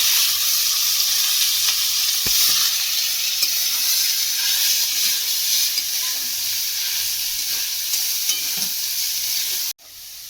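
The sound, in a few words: chicken frying with onion, garlic and ginger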